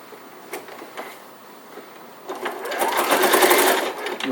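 A sewing machine stitches a seam in a felt elf hat: a few light taps, then a steady, whirring run of rapid stitching that builds and fades, close and clear with no talking.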